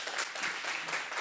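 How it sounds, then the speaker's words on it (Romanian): An audience at the Florile Dobrogei 2019 folk festival claps warmly for the organizers, a brief, even burst of many hands close together with no talking. "vreau să-i aplaudați pe acești organizatori"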